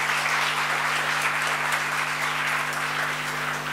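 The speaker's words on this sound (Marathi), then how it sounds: "जोरदार टाळ्या सुहासताईंसाठी." Sustained loud audience applause fills the hall at a felicitation event in Thane, a steady dense clapping from start to end with no talk over it.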